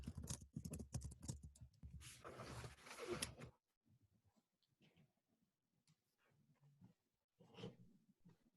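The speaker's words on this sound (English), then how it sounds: "I'll type out the question here" Computer keyboard typing, first a dense flurry of quick clicks and clatter, then sparse, faint individual keystrokes tapping at an uneven pace in a quiet room.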